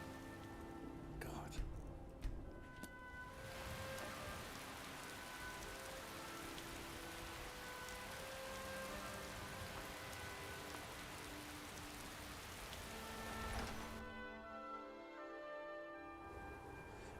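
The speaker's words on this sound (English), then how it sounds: "It's bloody raining still." Rain falls steadily in the video game Skyrim, a soft constant patter heard at low level with a few faint bell-like tones and brief quieter gaps near the start and end.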